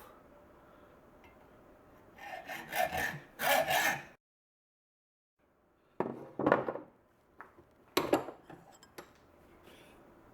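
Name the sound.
hacksaw cutting a steel file held in a vise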